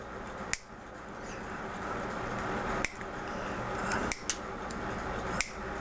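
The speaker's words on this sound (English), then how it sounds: "And I'll come in here and then just snip it off." Cheap diagonal cutters snipping a part off a die-cast 1928 Ford Model A model: four sharp, close clicks spaced a second or two apart over a quiet hiss.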